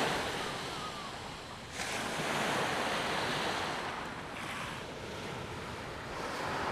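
Seaside waves wash in a continuous broad roar, swelling and easing in slow surges, with steady wind noise over the microphone and no voices.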